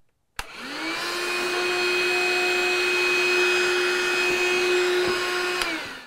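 A Dewalt DCV517 cordless wet/dry vacuum starts abruptly and runs steadily at close range with a loud, constant motor whine, a brief knock marking debris being sucked through the nozzle near the end.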